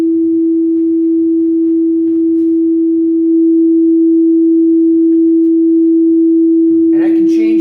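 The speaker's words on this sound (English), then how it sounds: "I'm going to put on this tone" A steady electronic sine wave tone holds at one constant pitch, loud and unbroken, with a brief rustle of other noise near the end.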